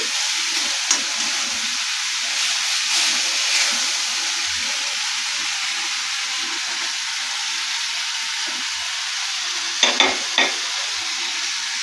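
Spice masala for a gourd kopta curry sizzles steadily in a pan while being stirred, with soft scraping strokes throughout and a few sharp clinks of the utensil near the end.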